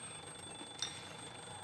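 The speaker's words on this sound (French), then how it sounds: "je commence à en avoir marre, moi, du réveil de Gaspard, quel calvaire" Alarm clock ringing in a French TV sitcom scene, a faint, steady high electronic beeping tone heard alone over quiet room noise.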